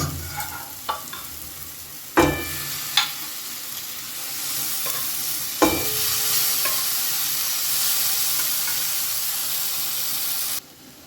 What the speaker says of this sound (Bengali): এবারে এর মধ্যে দিয়ে দেবো আমি সেদ্ধ করে রাখা ডাল